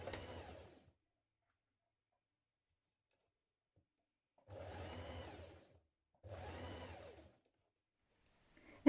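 Sewing machine stitching jacket sleeves to the lining, three short runs of steady motor whir separated by silent pauses, close and fairly quiet.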